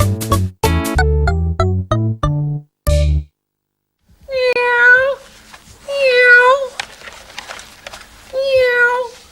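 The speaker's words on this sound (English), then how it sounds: "Gee, Bruce, that cat sure talks a lot" A cat meows three times in long, drawn-out cries, loud and close after a burst of bright, plinking musical notes in a children's song compilation about food and animals.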